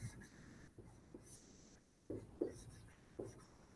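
Pen or pencil writing by hand during a kindergarten lesson, with faint scratchy strokes and a few louder taps and scrapes against the paper, quiet and close, with no speech.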